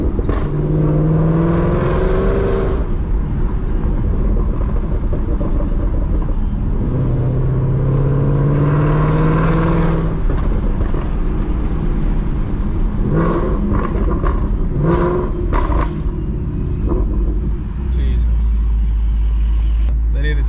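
A 2018 Whipple-supercharged Ford Mustang on an E85 tune revs on a dyno, with loud engine pulls that rise and fall in several sweeps. People talk over the engine throughout.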